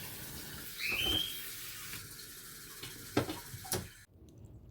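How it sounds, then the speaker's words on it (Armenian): Cold water runs from a spray tap in a steady rush with a brief whistling tone near the start and a few knocks, then cuts off abruptly near the end. "Ցնցուխով էլ մի հատ սառը ջուր կպահեմ"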